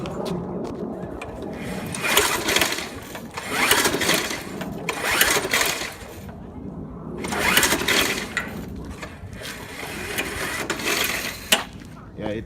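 Old 1997 Murray lawnmower with oil blow-by being primed and pull-cranked, repeated rasping bursts of the recoil starter and engine turning over without catching, close by, with a voice talking in between.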